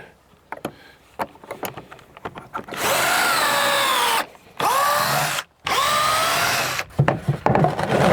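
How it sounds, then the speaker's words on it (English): A power drill bores pocket holes into wooden boards for a duck coop, whining loudly in three sustained runs with brief pauses between them. Softer clicks and handling noises come before the drilling. "so we're going to pocket hole the back side of one of these boards"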